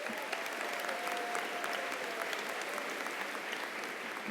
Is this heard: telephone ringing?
no